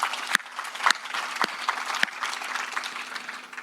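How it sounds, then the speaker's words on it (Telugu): A church congregation applauds in thanks during a Catholic Adoration service, many hands clapping together in a full, sustained roar with a few sharper claps standing out, moderately loud and close. "దేవునికి కృతజ్ఞత చెప్తూ మనం చప్పట్లు కొడదాం."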